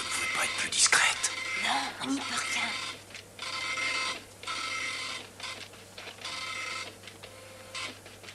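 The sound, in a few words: printer printing a file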